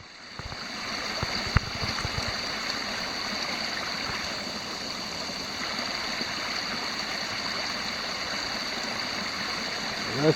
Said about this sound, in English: You got the creek